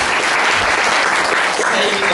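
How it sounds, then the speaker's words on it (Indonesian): Congregation applause for Devi at an Abbalove church service, a dense, steady wash of many hands clapping loudly and close throughout, with no gaps. "Boleh Bapak Ibu kasih tepuk tangan buat Devi."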